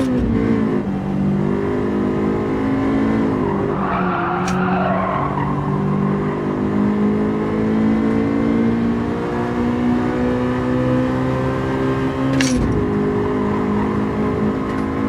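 Race car driving in Gran Turismo 7 with a Spec III Power Pack, heard from onboard: a continuous loud engine drone with shifting pitch, a couple of brief gear-change dips and some tire scrub, no talk.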